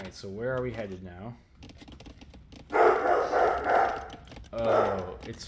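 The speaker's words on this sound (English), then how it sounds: "Sorry if you guys can only hear the dog bark right now, but there's fireworks where I live" A dog barks at fireworks going off nearby, two loud bursts of barking following a stretch of talking at the start.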